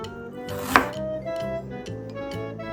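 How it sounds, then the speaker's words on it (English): A knife slices ginger on a cutting board in a quick, even series of close, crisp taps, with one sharper knock near the start. "Next, slice the ginger"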